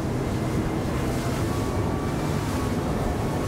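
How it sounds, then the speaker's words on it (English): A 2017 Axopar 24 T-top boat cruises at speed, around 35 knots: a steady, loud wash of engine drone, hull slap and wind rush, unbroken and without talk. "And the boat's tracking really nicely."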